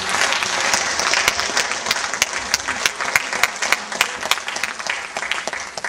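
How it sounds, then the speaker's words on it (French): A crowd applauds steadily throughout, dense clapping from many hands with a few sharper claps standing out, fairly loud and close. "Je crois qu'on peut applaudir"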